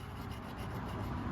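Metal on a control arm for a lifted 1987 Toyota van is trimmed with a steady, continuous grinding rasp, close and fairly loud throughout, with no talking.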